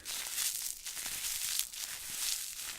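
A plastic bag crinkles steadily up close, a continuous crackly rustle with bursts of louder crumpling, heard alone with no voice during the stretch.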